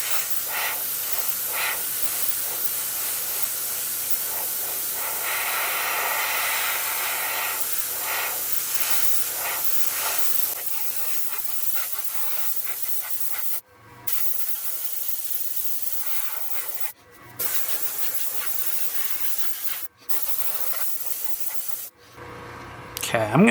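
Steady close hiss of a Gaahleri Ace airbrush with a 0.5 needle spraying thin paint onto a Hobby Boss U2 model, later broken into several short bursts with sharp stops and gaps.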